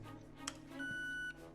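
A key card is scanned at a reader in the Final Fantasy 7 Remake video game, giving a short electronic blip followed by a steady sustained tone of about half a second, quiet under faint background hum.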